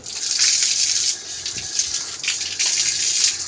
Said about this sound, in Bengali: তো মুখটা ধুয়ে নিলাম।